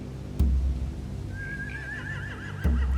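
Horses neighing in The Walking Dead: The Final Season, a loud whinny rising and wavering over a low rumble, framed by two heavy thuds.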